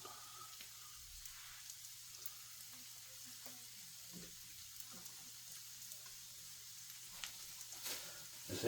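Chicken gyoza fry in a frying pan with a soft, steady sizzle and occasional light crackles and pops, fairly quiet and close.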